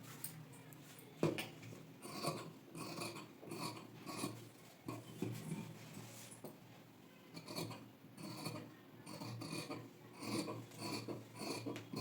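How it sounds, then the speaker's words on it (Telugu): Scissors cutting through marked blouse fabric, heard close up as a steady series of rasping snips and slides repeating every half second or so, fairly quiet and without talk. "ఇప్పుడు మనం మార్కింగ్ చేసుకున్న విధంగా కట్ చేసుకుందాం"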